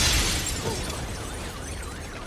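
An explosion goes off inside a bank in a heist film: a loud, broadband blast right at the start that rolls off into a long, decaying rumble with debris-like crackle.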